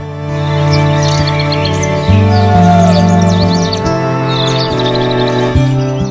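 Birds chirp and sing in a lush green ecological park beside the Mathura oil refinery, scattered calls rising steadily over a sustained musical backing throughout.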